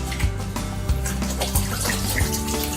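Running tap water splashing steadily while cleanser is rinsed off the face, a continuous close wash with small irregular splashes and soft thumps of hands.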